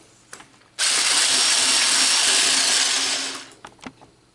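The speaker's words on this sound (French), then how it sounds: "Je monte ma crème avec le sucre." An electric hand mixer whips cream with sugar for a chantilly cake, roaring loudly and steadily for about two and a half seconds, with faint clicks before and after.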